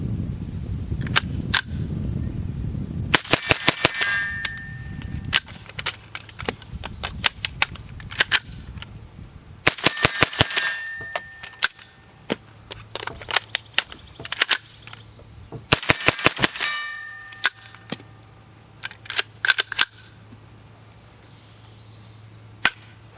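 Repeated sharp gunshots from a .22LR rifle fitted with a CMMG adapter, fired singly and in quick bursts of several shots, loud and close with short echoing tails and quiet gaps between strings.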